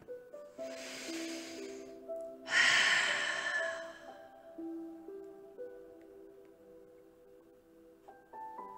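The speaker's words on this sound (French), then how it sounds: "À nouveau, 3 grandes respirations." Two deep breaths during a stretching exercise for the breathing muscles, each a broad, soft airy rush of inhaling and exhaling, the second louder and closer, heard over a sustained low musical accompaniment.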